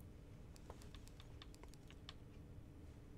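Quick, irregular key clicks from a computer keyboard, a short burst of typing heard faintly at close range over a low background hum.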